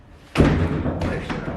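A kick lands on a wooden Wing Chun training dummy: one loud, close thump with a short woody knock, followed by a brief rustle of movement and a voice talking.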